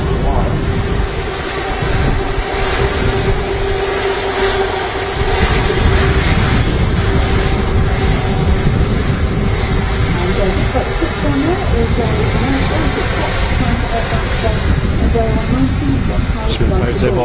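An Air France Hop Embraer jet touches down on runway 05 left at windy Manchester Airport, arriving from Paris. A steady, broad engine roar mixes with gusting wind beneath continuous spoken commentary.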